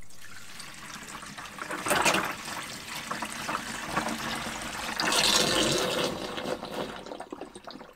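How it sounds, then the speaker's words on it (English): Fresh water rinses through a motorhome waste tank, a steady close rush and gurgle lasting several seconds, swelling twice before fading. "Rinse it through with some fresh water here."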